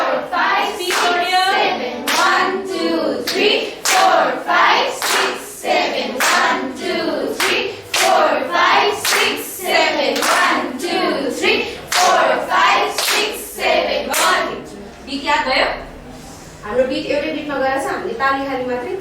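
Hands clapping a steady rhythmic count at a music workshop, a seven-beat cycle divided three-two-two with sharp close claps alternating with softer waves, and voices counting along over the claps.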